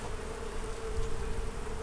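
Honeybees around an open hive box during a spring inspection, a steady dense drone with a sustained buzzing pitch close by, uninterrupted and without voices.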